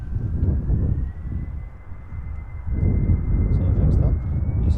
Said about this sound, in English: So next up, EasyJet going to Edinburgh, A319.